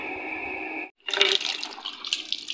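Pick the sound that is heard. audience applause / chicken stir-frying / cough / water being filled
water being filled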